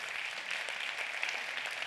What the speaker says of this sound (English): A big round of applause for Diego